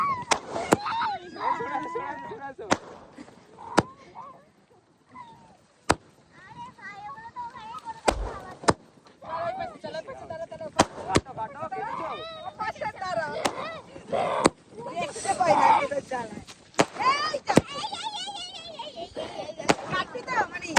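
Firecrackers popping at a birthday celebration: a scattered series of sharp, brief cracks spread over about twenty seconds, mixed in with people talking nearby.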